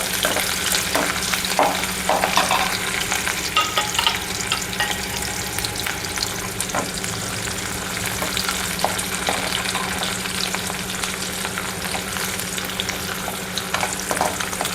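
Chopped onion and green chili fry in hot oil, a constant dense sizzle with occasional stirring scrapes, close and continuous, no talking.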